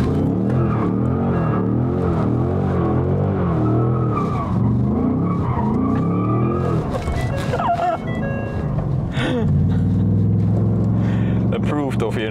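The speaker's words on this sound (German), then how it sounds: "wir fahren hier einfach nur auf den Kreis drauf, ziehen die Handbremse" A Ford Mustang GT with a 5-litre V8 drifts around a circle after a handbrake pull, its tires skidding and squealing over a loud, steady engine roar throughout.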